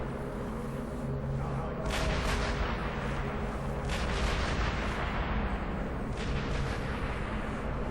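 Gunfire in Sniper Elite V2 rumbles steadily through the whole stretch, with heavy booming shots and a few sharper cracks rising out of a dense, continuous battle din, distant rather than close.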